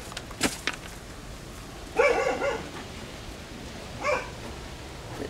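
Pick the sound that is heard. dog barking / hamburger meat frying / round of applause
dog barking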